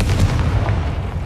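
A Confringo blasting spell goes off in Hogwarts Legacy, a loud, dense low-end blast sustained across the whole short moment with a rumbling, booming body and no talk.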